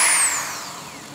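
An ALDO BLT1008 corded torque drill spinning, a loud close motor whine that falls in pitch as it winds down over about a second, no talk.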